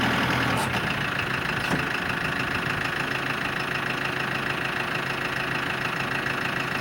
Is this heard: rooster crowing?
no